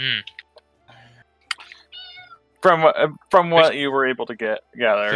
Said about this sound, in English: Whose cat was that?